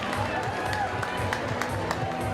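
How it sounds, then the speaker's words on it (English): A sparse crowd at Founders Park cheers and claps after a sacrifice fly at an LSU vs South Carolina college baseball game, a thin, steady roar with scattered claps under a commentator's voice. "And that'll bring this sparse crowd to life here at Founders Park."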